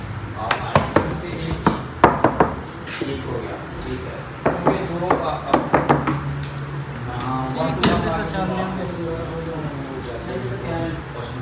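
A hand knocks on a wooden door at a door showroom: a few sharp knocks in short clusters, heard close, while people talk nearby.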